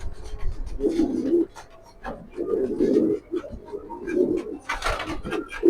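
Racing pigeons coo in repeated low, throaty bursts, fairly close, with brief pauses between calls and some rustling in the background.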